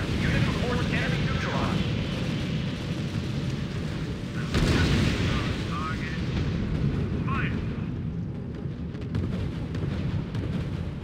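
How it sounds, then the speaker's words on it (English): Artillery bombards a city in the strategy video game R.U.S.E., producing a dense, continuous roar of booming explosions with a heavier blast partway through, loud and rumbling throughout. "General, Allied Command has ordered the bombing of the city."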